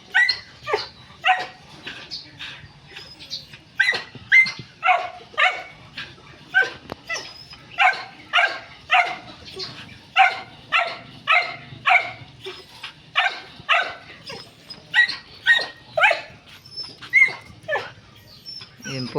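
A small dog named Chuchay barks angrily and repeatedly at a Lionhead rabbit, a steady run of sharp, close yaps and yips, with brief whimpering notes mixed in.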